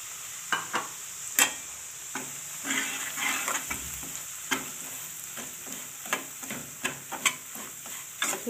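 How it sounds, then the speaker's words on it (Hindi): Semolina roasting in melted ghee in a pan for suji halwa, with a soft, continuous sizzle and a spoon scraping and stirring in regular, close strokes. "सूजी को हम थोड़ा सा कलर देंगे, मतलब इसमें थोड़ा सा भून लेंगे"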